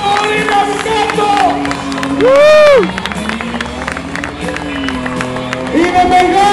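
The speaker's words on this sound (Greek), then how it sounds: "πάμε δυνατό χειροκρότημα για τον Σταύρο" A crowd at a car drifting event cheers and applauds for drifter Stavros. The dense, loud roar of voices and clapping carries on under a loud announcer, while a tire squeal rises briefly in the middle.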